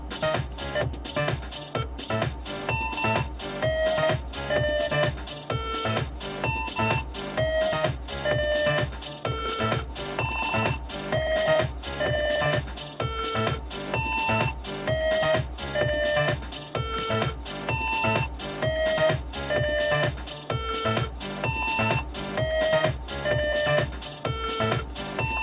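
A short synthesizer riff loops in music production, a steady repeating pattern of bright pitched notes over a pulsing beat, loud and continuous with no talk.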